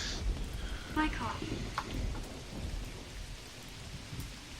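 Steady rain and rolling thunder from the video game Tender Loving Care fill the scene, with a voice speaking briefly over the continuous downpour.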